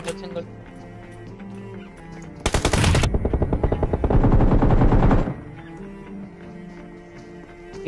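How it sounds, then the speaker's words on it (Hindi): Rapid automatic gunfire in the mobile battle royale game PUBG Mobile, a loud burst of quick shots followed by a second sustained volley, with background game audio around it. "सिंगल गन भी मार रहा है"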